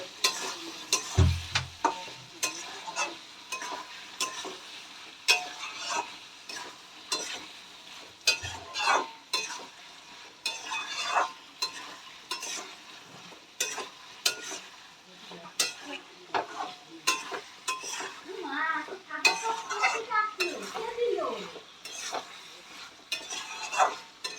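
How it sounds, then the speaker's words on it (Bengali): Soaked ground spices sauté in a pan for a vegetarian ghugni while a spoon stirs them, producing repeated scraping strokes and clicks over a gentle sizzle. "এবার ভালো করে কষিয়ে নেব ততক্ষণ না মশলার কাঁচা গন্ধটা চলে যাচ্ছে"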